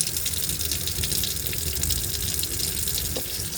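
Tap water runs steadily into a sink while tiny glass balls are rinsed, making a loud, continuous close gush with no voices.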